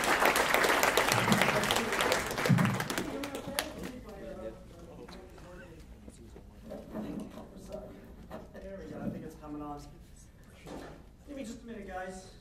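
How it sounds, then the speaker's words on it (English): Applause from a keynote audience at the Zoholics 2012 conference for a columnist and author, loud at first and then fading after about three seconds into murmuring and talk. "Please give him a round of applause."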